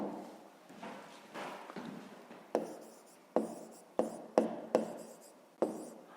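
A pen writes out a math solution by hand on paper, with soft scratchy strokes followed by a run of sharper, regular taps as characters are marked. Quiet and close, with no talking.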